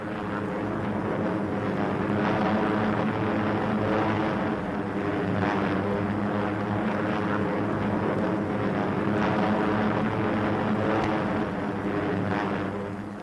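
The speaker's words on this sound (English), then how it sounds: "The bombers and fighters circled for grouping over Oro Bay" B-25 bombers and fighter aircraft circle in flight over Oro Bay, a continuous heavy droning of piston propeller engines, loud and steady throughout with no voices.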